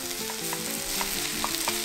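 Mushrooms and onion stir-fried in oil over medium heat, a dense close sizzle with quick scraping strokes of a utensil against the pan, loud and steady with no voices.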